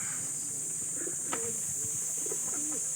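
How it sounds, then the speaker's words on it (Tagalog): Racing pigeons cooing at the loft during a pigeon race, soft repeated coos close by over a constant high hiss, with no talk. "Yan, may isa na tayo mga kalapatids."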